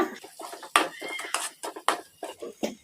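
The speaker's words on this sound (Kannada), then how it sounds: "ರುಚಿಗೆ ಎಷ್ಟು ಬೇಕಷ್ಟು ಉಪ್ಪು ಹಾಕೋಣ ಕಲಿಸ್ಕೊಂಬಿಡೋಣ" A spoon stirs spice powder and salt into egg masala in a pan, making quick, irregular metallic scrapes and clinks at close range with no talk.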